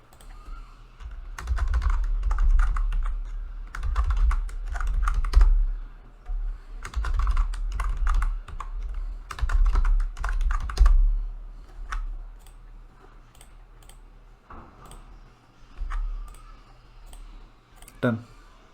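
Mouse and keyboard clicks tap in quick irregular bursts at a desk during a Windows Server installation, close and crisp, with a few pauses and a voice speaking briefly toward the end.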